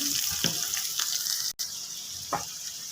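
Spices with ginger and garlic fry in hot oil for a Bengali rohu fish curry, a steady close sizzle broken by a few stirring scrapes and one brief cut-off midway.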